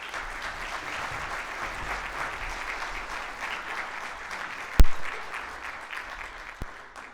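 An audience applauds to welcome Dr. Eric Jolly at the EmpowerCF 2025 event, with sustained clapping across the whole stretch and a couple of sharp louder claps or knocks near the end.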